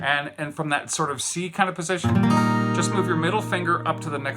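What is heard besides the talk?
No everyday noises stand out.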